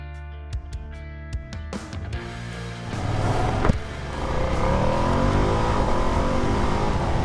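A few sharp mechanical clicks, then a 2025 Ducati Panigale V2S motorcycle engine fires up and revs, rising into a loud sustained snarl with shifting pitch.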